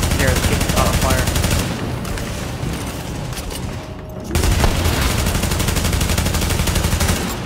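Dense, continuous automatic gunfire from a firefight in the video game The Division, a loud sustained barrage that dips briefly midway before resuming at full intensity.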